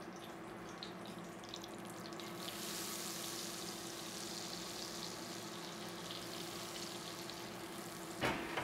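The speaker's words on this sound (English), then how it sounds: "Liver in." Liver fries in butter in a pan, a soft steady sizzle with a watery bubbling texture that swells slightly partway through, ending in a brief louder clatter; fairly quiet and without talking.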